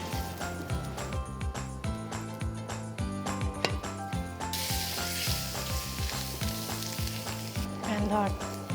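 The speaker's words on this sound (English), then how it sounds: "Now we will saute the rice," Rice sautéing in a hot pan for a shrimp coconut dish, a steady close sizzle with clinking, rhythmic stirring knocks and broadband frying hiss throughout, no talking.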